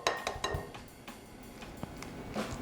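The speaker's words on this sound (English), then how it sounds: "So I'm gonna go ahead and get our eggs in there." Two eggs are added to white Texas sheet cake batter in a mixing bowl, giving several light clinks and taps of shell and utensil against the dish, close and fairly quiet, with no talking.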